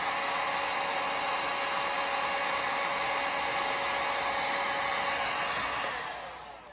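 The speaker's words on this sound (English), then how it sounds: "we got hot air coming out of the heat gun" A heat gun blowing hot air while sealing a joint gives a loud, steady, close rushing roar that holds constant for about six seconds and then begins to fade, with no talk.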